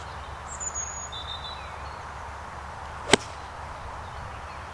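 One crisp, sharp click of a new golf club hitting a ball at a driving range, set against quiet outdoor ambience with a couple of faint bird chirps.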